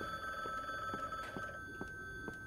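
Telephone ringing quietly in a room, a thin electronic trill repeating in short rapid pulses, faint and alone.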